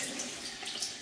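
Soaked dried peas being rinsed under a running tap for chip-shop-style mushy peas, a steady close hiss of flowing water with no talking.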